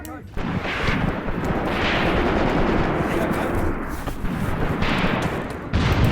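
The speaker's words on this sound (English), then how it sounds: "We may have just called in some artillery" Artillery barrage in the WW2 game Graviteam Tactics: Mius Front, heavy booming shell impacts rolling together into a dense, loud rumble with repeated blasts, fairly close.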